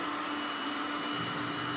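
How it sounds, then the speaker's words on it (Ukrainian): A robot vacuum cleaner running on a tabletop, a close, steady motor whir with a high whine, constant and loud throughout with no voices. "Спитався, чи робот-пилосос не впаде зі сходів."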